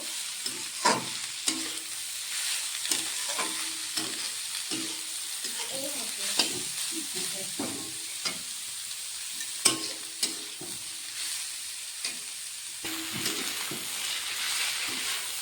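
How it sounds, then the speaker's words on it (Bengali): Shredded cabbage stir-fries in a hot pan for vegetable chow mein, a steady sizzle broken by repeated scraping and tossing strokes of a spatula, close and moderately loud with no talk. "বাঁধাকপির সঙ্গে হালকা কষিয়ে নেব।"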